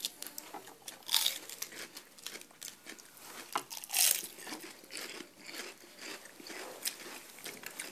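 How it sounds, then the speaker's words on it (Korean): Crisp, wet crunching of iceberg lettuce being bitten and chewed up close, with repeated loud crunches in an irregular rhythm and no talking over it. "되게 아삭거리는데 이게"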